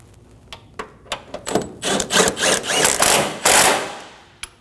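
Ratchet or wrench clicks and rubbing metal as bolts are snugged down on the serpentine belt tensioner of a 2008-2015 Scion xB 2.4L, in short irregular bursts building into longer strokes, close and fairly loud.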